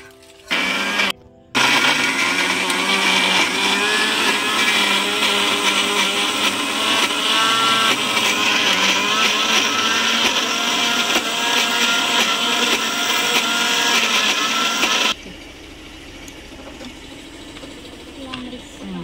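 A kitchen mixer grinder whirs loudly and steadily for about thirteen seconds as it grinds gongura pickle ingredients, starting after a brief pulse and stopping abruptly.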